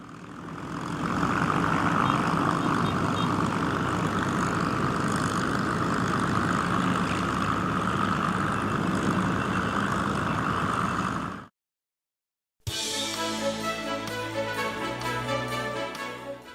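A Douglas A-1H Skyraider's piston engine and propeller drone loud and steady for about eleven seconds, cut off abruptly, and then give way to a different, more tonal sound after a short silence.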